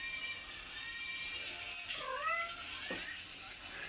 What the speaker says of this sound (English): In the background, you're hearing a very forlorn kitty.